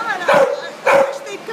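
A big, well-fed red shelter dog with no collar gives two loud, close barks with a whimpering edge, spaced about half a second apart.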